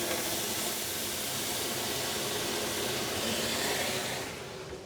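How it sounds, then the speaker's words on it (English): Loud, steady broadband hiss of hot water poured into a preheated oven pan and flashing to steam, continuous for several seconds before easing slightly at the end. "I'm going to add hot water to the pan."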